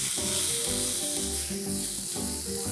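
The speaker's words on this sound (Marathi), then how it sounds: "हाय फ्लेमवरतीच थोडंसं हे छान परतून घ्यायचं आहे." Radish leaves and chopped onion sizzle steadily as they are sautéed in a pan over a high flame, a continuous close frying hiss with stirring scrapes and no talk.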